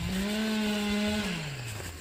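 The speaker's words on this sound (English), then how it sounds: "But I hear this power saw going over here" A power saw runs nearby, holding a steady buzzing whine for about a second before the pitch drops as it winds down, fairly loud and continuous.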